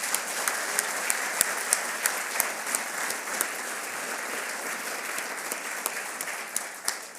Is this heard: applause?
yes